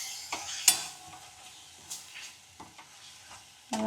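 A spoon scrapes and stirs fresh green turmeric curry with yogurt in a pan, several short separate strokes over a faint low sizzle, close and fairly quiet.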